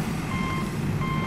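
Steady repeating reversal beeps from a toy truck played with in sand, sounding loud and close over a constant hum, with no talking.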